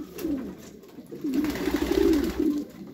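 A male pigeon coos to two females, soft throaty rolling calls in a couple of bursts, close and fairly quiet, with no speech.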